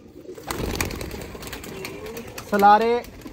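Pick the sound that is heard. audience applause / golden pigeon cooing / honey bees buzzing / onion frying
golden pigeon cooing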